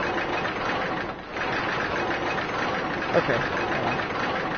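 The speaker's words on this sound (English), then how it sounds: "Riding the roller coaster!" Steady mechanical rumble and rattle of a roller coaster car running along its track in a video game, continuous and fairly loud, with a brief voice speaking over it.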